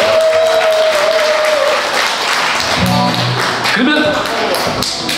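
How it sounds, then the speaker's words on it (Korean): Audience clapping at a Chuseok holiday concert at a Spanish-themed live music restaurant on Ganghwa Island, acknowledging the drummer, a continuous wash of applause with a voice speaking and faint musical tones over it. "우리 곽종옥 형님에게 박수 한번 부탁드립니다"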